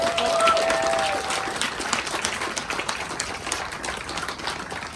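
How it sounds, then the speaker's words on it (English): An outdoor crowd at a farewell event for a TriMet Type 1 MAX light rail train in Portland breaks into sustained applause, loud at first and then settling into steady clapping with a few cheers. "So let's give that a big round of applause."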